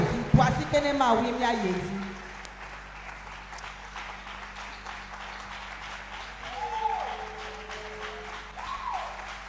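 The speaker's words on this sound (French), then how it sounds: "Acclame Dieu et on va avancer. Acclame bien." A church congregation applauding at an evening service, heard as steady crowd clapping that fills the room under a loud voice, with the voice dropping away as the applause continues and swells again near the end.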